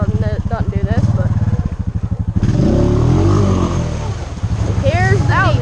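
A Honda off-road vehicle's engine revs hard while driving through deep, rutted water with its exhaust submerged, giving a loud, steady churning drone. Shouting voices break in at the start and again near the end.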